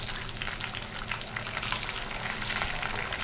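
Fish pieces fry in sesame oil with a dense, even crackling sizzle, spattering close and loud as they are turned in the pan, with no talking.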